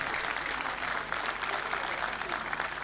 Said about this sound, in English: You're not clapping very well.